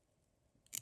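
A single quiet snip of scissors trimming a foam ant craft comes at the very end of an otherwise near-silent moment.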